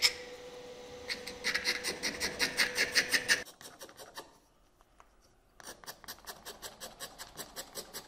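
A thin glass shard from picture-frame glass scrapes a wooden shoe last smooth in rhythmic, rasping strokes, close and fairly loud, pausing briefly before the repeated scraping resumes.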